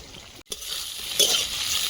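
Crushed garlic, onion and green chilli spices frying in a pan, a soft crackling sizzle that briefly drops out, then returns and swells slightly louder.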